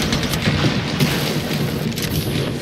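Airstrike explosions in an Apex Legends match: a steady, loud roar of rumbling blasts and debris that runs through the whole stretch, with no voices over it.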